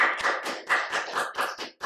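A church congregation claps during a Sunday service in a short burst of sharp, rhythmic hand claps, close and fairly quiet, about eight beats in under two seconds.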